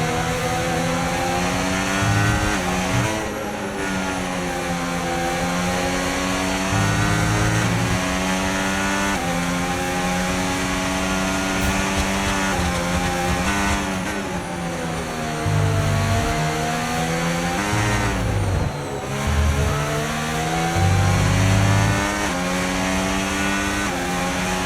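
Race car engines roar steadily in the F1 25 video game during a race at the Red Bull Ring, with repeated revving and gear changes, loud and continuous with no talk.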